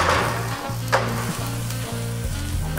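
Chilies, ginger and garlic sizzle loudly in a pan while being stirred, giving a dense continuous hiss with occasional scraping. A low steady hum runs underneath, and there is no talk.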